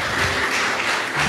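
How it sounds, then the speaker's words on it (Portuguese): Dense crowd applause at a church service, loud and continuous, with many hands clapping together throughout. "Vamos aplaudir ao Senhor então bem forte,"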